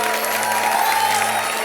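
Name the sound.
audience applause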